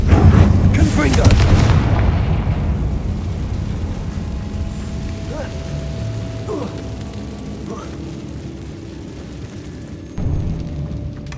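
Fiery Confringo spell blasts in Hogwarts Legacy, a loud booming explosion at the start that rolls into a long rumbling decay, with a smaller thump near the end, over game ambience and talk.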